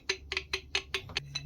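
The worn brass lead screw nut in the tailstock of an old, roughly 80-year-used DSG lathe rattles and clicks, giving about eight sharp, close metallic taps in quick, slightly irregular succession.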